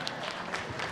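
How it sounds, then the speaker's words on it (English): A short burst of dense applause from a town meeting crowd, steady clapping throughout with no pauses. "You all deserve a great round of applause."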